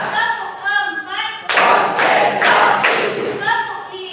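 A classroom group claps in unison at a high school in Banda Aceh, about four sharp, loud rhythmic claps in quick succession, with a teacher's voice before and after.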